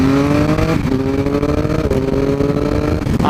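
A Triumph Speed Triple RS 1050 motorcycle engine roars loud and close, revving up through the gears with quick shifter changes that briefly break the rising pitch, heard from the rider's position while moving.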